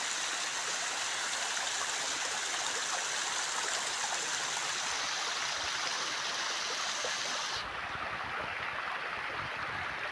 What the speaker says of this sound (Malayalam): ഇതിലൊക്കെ ഈ കുഞ്ഞിൻ്റെ ഇതിലൊക്കെ വെള്ളം ഒലിക്കും